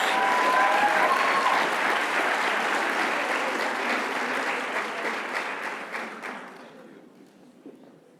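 Applause at an employee awards ceremony for 30-year honorees, a full crowd clapping steadily before gradually thinning and fading out over several seconds.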